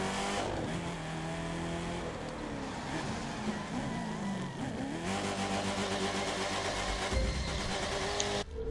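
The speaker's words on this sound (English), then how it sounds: "Burning rubber in the Chevrolet Camaro ZL1 at night." Engine of a Chevrolet Camaro ZL1 in the racing game The Crew 2, revving steadily during a night street burnout, a continuous loud roar that shifts pitch midway, with no talking.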